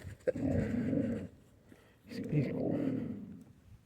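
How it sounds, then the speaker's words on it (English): A dog growls low and rumbling in two long stretches, close by, with a brief sharp yip at the start. "He's barking."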